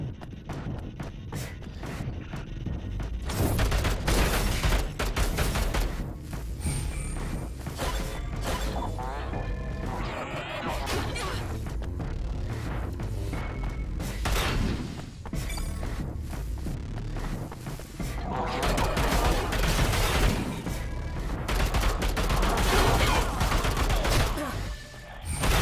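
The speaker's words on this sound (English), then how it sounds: "We'll go back to the assault rifle though" Assault rifle fire in the Bunker Punks video game: dense, rapid volleys of shots that run almost continuously, loud and close, with brief lulls and clanking impacts between bursts.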